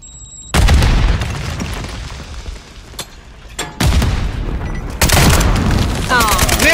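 Grenade blasts in Call of Duty Modern Warfare 3 hardcore multiplayer, three loud booming explosions with rumbling tails and crackling debris, separated by quieter game noise, with players talking over it.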